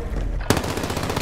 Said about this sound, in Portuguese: Essa arma laser ela descarrega muito rápido, mas bicho, é bala